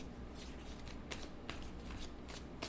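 Tarot cards being shuffled by hand, a steady riffling and rustling of card stock with a few sharper snaps, close and continuous with no voices.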